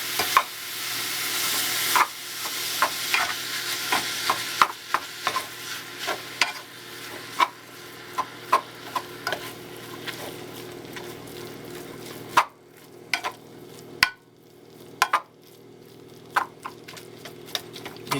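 Ground beef broken into small chunks and stirred in a pan, a steady sizzle under repeated scraping and tapping of a utensil against the pan, close and without talk.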